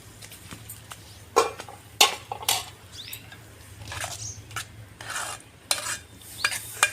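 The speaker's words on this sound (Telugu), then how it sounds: "ఇప్పుడు ఈ పచ్చళ్ళ కలిపేటి కలుపుతాను నేను" Pickle is mixed in a pan with a spoon. Repeated scraping, clanking strokes come in bursts over a low steady hum, close and fairly loud.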